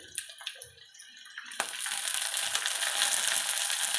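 Chopped medium tomato pieces drop into a pan of frying onions, green chillies and curry leaves, setting off a sudden burst of loud sizzling that swells into steady, broadband frying crackle after a quieter stir.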